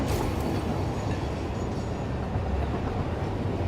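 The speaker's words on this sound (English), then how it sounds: "It's actually the first time I think I've had a train even come up here" Train from the factory-building game Satisfactory rolling along steadily, a continuous close rumble with faint clattering running throughout, no voices.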